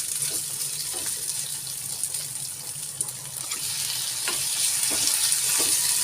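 Sliced onions and tomatoes sizzling in a hot frying pan while cooking an avarekalu palya, a steady hiss of frying with scattered pops and crackles that grows slightly louder toward the end.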